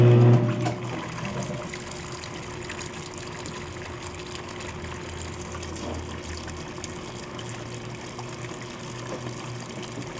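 Water pours steadily into a Speed Queen AWN432 washing machine that fails to fill all the way, a soft continuous rushing with a low hum underneath.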